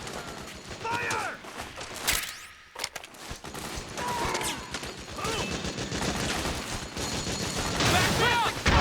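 Soldiers' gunfire in the video game Metal Gear Solid 4: dense, continuous bursts of rapid shots and clattering mechanisms, loud and close, with voices mixed in.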